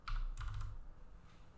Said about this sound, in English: so I'm going to type in 5 millimeters and hit enter